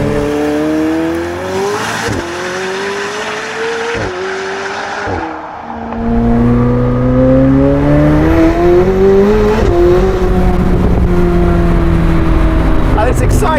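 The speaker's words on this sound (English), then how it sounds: "once you accelerate, the honing noise coming from that V8" A McLaren 765LT Spider's V8 engine accelerates hard, its loud rising engine note sweeping upward through the gears with a brief dip and then a fuller, louder pull, close and dominant throughout.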